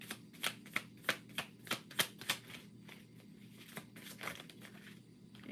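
Tarot advice cards riffled and handled before one is drawn, a quick run of about eight crisp papery flicks in a steady rhythm, then softer, looser rustling, close and quiet.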